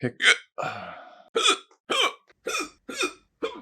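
A person hiccups about eight times at close range, each a short sharp vocal burst separated by brief pauses, with no other talk.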